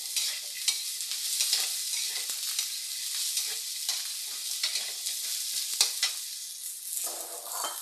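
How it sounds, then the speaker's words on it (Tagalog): Carrot sautéing in a pan for egg curry gives a steady, bright sizzle with frequent scraping stirs, close and loud throughout, with no voices. "Ayan, gisa natin yung carrot."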